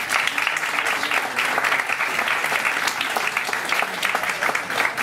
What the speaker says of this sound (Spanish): pues aplaudimos a los autores